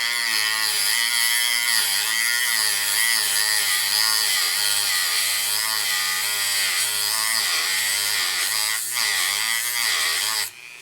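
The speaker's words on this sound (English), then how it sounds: "the quick way of doing that is by using a little Dremel tool" A small Dremel rotary tool cuts a slot into a screw head with a loud, continuous high whine that wavers slightly in pitch. It runs close and alone for about ten seconds, then cuts off abruptly.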